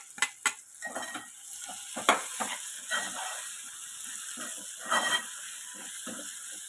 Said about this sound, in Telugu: అలా వేగిన తర్వాత మనం ముందుగా కట్ చేసి పెట్టుకున్న ఈ టమాటా ముక్కలను కూడా యాడ్ చేసుకోవాలి